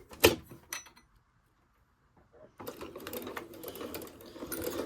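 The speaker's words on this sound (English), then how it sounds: "Back stitch over that elastic" A sewing machine back-stitches over elastic on a small fabric door latch cover, a couple of sharp clicks and a short burst, a near-silent gap, then the machine resuming with steady rattling stitching.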